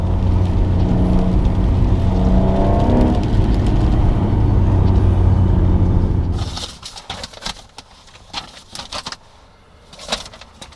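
An Alfa Romeo 147 GTA engine roars loudly with a rising note for several seconds, then cuts off abruptly, leaving quiet surroundings with scattered birdsong and pigeon coos.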